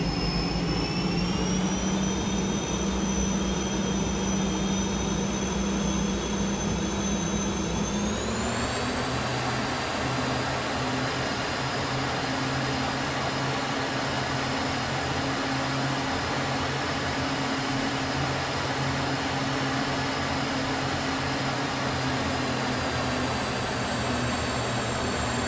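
A Northrop T-38 Talon jet engine whines and roars in MSFS 2020, a loud sustained turbine tone that shifts upward in pitch as the revs change, then holds steady.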